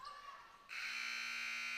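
A basketball game buzzer at a girls' high school game, Loudonville at Lucas, sounds the end of the first quarter, a loud sustained electronic blare that cuts in abruptly and holds steady.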